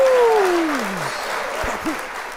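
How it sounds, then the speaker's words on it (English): Crowd applause fills the whole stretch, opened by a loud falling whistle-like whoop and followed by a couple of short vocal bursts over the steady clapping. "Big round of applause."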